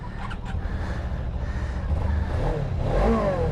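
A 2023 Suzuki GSX-250R motorcycle engine starting and revving, a close, steady mechanical drone that rises and swells in pitch toward the end, with a sharp burst early on and no talking.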